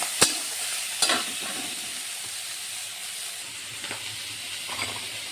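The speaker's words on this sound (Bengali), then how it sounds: "এখন আমি চিংড়িগুলো একটু ভেজে নেব" Shrimp being fried in a pan for a Bengali jackfruit-and-shrimp dish, giving a steady close sizzling hiss with a few sharp clicks from stirring.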